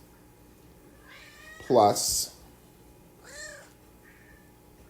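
A house cat lets out a drawn-out meow, then a shorter second one a moment later. Both are close, and a person speaks around them.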